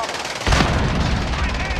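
Gunfire in a first-person military shooter video game: a burst of shots breaks in about halfway through and dense, loud firing continues to the end over the game's background din.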